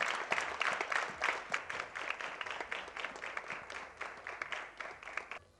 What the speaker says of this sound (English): Shall we put our hands together to applaud them?